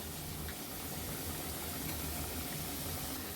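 Potato flowers fry in hot oil over a low flame, giving a constant dense sizzling hiss throughout with no pauses.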